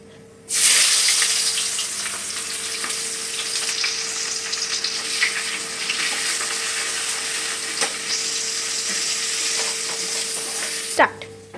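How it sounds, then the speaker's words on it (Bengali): Onion dropped into hot oil with nigella seeds for a fish curry, a sudden loud burst of sizzling that holds as a dense steady crackle for about ten seconds, close up, with no talking. "এবারে তেল গরম হয়ে গেছে, ওর মধ্যে কালো জিরে দিয়েছি, এবারে পেঁয়াজ দেবো।"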